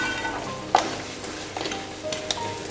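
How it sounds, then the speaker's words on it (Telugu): Marinated chicken frying uncovered in oil, giving a soft, steady sizzle with occasional stirring clinks and scrapes close by, no talking. "ఒక 2 నిమిషాలు మూత ఓపెన్ చేసి ఫ్రై చేయాలి"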